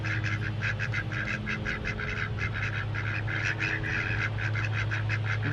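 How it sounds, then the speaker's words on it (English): Ducks quacking steadily in a backyard flock, a dense run of repeated quacks over a constant low hum, close and fairly loud throughout. "The ducks have been happy lately."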